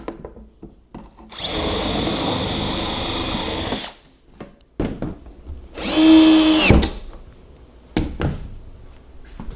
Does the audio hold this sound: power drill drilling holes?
yes